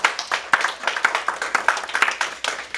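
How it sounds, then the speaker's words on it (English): Crowd applause at a community meeting in Huntington, West Virginia, with distinct individual claps standing out in a lively, fairly close burst of clapping from a modest-sized audience. "I think we should give ourselves a collective round of applause for that."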